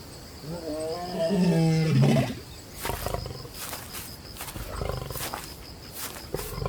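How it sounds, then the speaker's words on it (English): A male Serengeti lion lets out a deep, drawn-out roar that swells and then fades. Several low, breathy grunts follow, sounding fairly close and carrying across open savannah. "the roar of the male lion echoes across the savannah"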